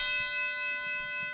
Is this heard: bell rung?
yes